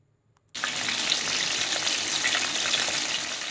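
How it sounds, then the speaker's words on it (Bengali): After a brief silence, a loud, steady sizzle of salted, turmeric-coated pointed gourds frying in mustard oil over low-to-medium gas flame starts abruptly and continues close by. "পটলগুলোকে দিয়ে দেওয়ার পর গ্যাসের ফ্লেম লো টু মিডিয়ামে করে পটলগুলো ভেজে নিতে হবে"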